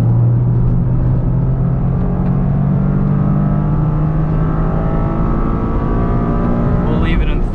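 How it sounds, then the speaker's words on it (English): A 2023 Toyota GR Corolla engine droning loud and close inside the car, pitch sliding through a heel-toe downshift into second gear, with a driver's voice over it. "Down into second. Nice to heel toe downshift in this."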